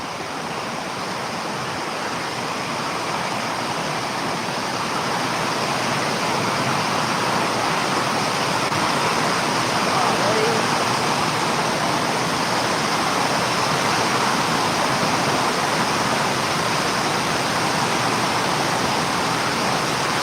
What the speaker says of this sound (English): You just can't hear it over the rain.